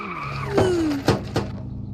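Tires of a car in the Car For Sale Simulator 2023 mobile game skid and squeal under braking, a gliding tonal screech followed by two short sharp bursts, loud and close with no talking.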